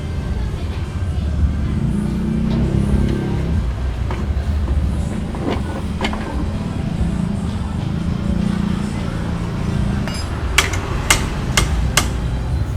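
A hammer strikes a stuck rear brake part on a Yamaha Jupiter Z motorcycle, landing several sharp metallic knocks near the end over a steady broadband background noise.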